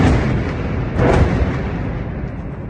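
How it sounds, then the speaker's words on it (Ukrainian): A heavy, muffled airstrike explosion booms around the middle in the centre of Bakhmut, followed by a long low rumble that lingers beneath steady background noise. "так звучить авіаудар по центру Бахмута"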